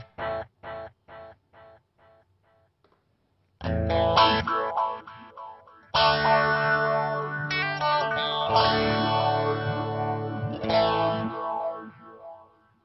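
Guitar notes passed through the gritty lo-fi delay of a Hotone Ampero, with short plucks first, then sustained chords whose repeats smear and trail behind them, loud and close.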